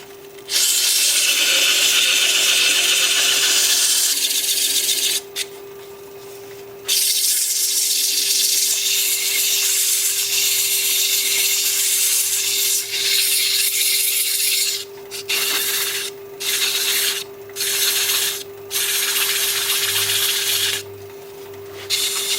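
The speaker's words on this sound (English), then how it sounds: "I'm going to start at 100 grit with the lathe spinning forward and reverse." Continuous loud rasping of 100-grit sandpaper against sycamore spinning on a lathe at about 400 RPM, forward and reverse, with a steady motor hum beneath and several brief pauses as the abrasive lifts off.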